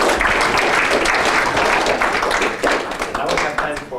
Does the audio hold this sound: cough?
no